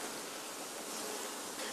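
A dense, continuous buzzing of many honey bees at a hive, close and steady, with no voices.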